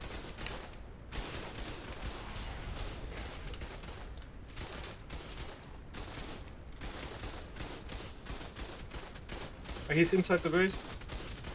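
Defensive turrets in the survival game ARK fire at an attacking tribe, a dense run of rapid, overlapping shots and impacts that carries on throughout while several players talk excitedly over it.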